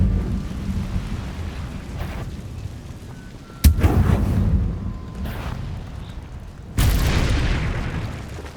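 The Incendio fire spell in Hogwarts Legacy goes off with heavy booming whooshes, two sudden loud bursts over a rumbling background, each trailing into a roaring decay.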